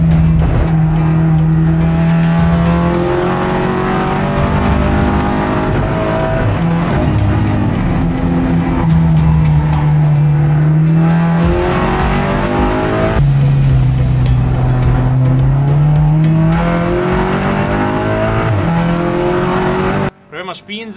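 A race car laps a track on new brake pads, its engine loud and close, revving up and down through the gears with a sharp shift midway and faint tire squeal, while someone speaks Italian over it; the sound cuts out near the end.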